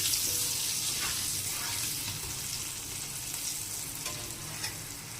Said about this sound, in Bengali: আর নাড়বো, আলুগুলো লাল লাল করে ভেজে নেব।